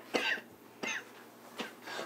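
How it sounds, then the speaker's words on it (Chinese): A man at a pharmacy counter coughs hard enough to bring up blood: four harsh, rasping bursts spaced about half a second apart, close and loud, with no talk over them. "不行，这都咳血了，得去医院。"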